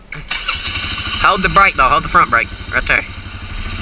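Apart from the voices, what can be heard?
Can-Am Outlander 450 ATV engine starting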